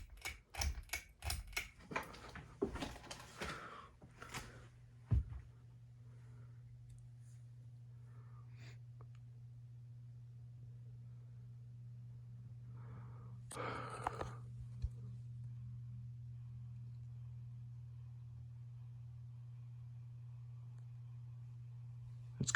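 A Litex Celeste ceiling fan switching on with a few clicks and knocks, then running with a steady low hum alone in a quiet room, with a brief rattle partway through.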